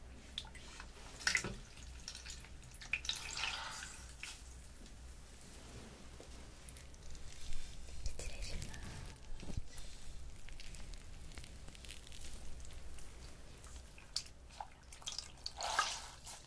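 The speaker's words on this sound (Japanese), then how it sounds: "こちらのガーゼでお顔の泡を洗い取りますね。" Foam washed off a face with wet gauze during a bath-time routine, with soft water drips, gentle sloshing and damp cloth rubbing, all quiet and close with long hushed stretches.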